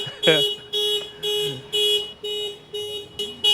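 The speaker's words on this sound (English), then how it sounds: "I'm like 20 feet away from the car and I set off the alarms" A car alarm in Malaysia goes off nearby, sounding loud repeated electronic tone bursts in an even on-off rhythm, with a brief voice near the start.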